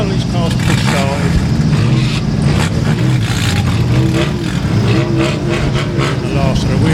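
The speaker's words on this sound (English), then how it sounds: "These cars push started." Banger racing cars at Stansted Raceway being push started, engines revving and idling loudly and continuously close by, with a commentator talking over the noise.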